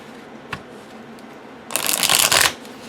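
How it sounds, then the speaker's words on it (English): A deck of matte black tarot cards being shuffled: a soft tap first, then a brisk riffling burst for about a second, close and clear against a quiet room. "So let's give this a shuffle."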